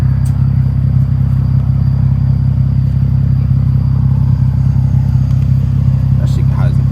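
A Nissan 370Z fitted with an ISR single exit exhaust idles with a loud, steady, throaty low rumble that holds constant throughout, with a voice speaking over it.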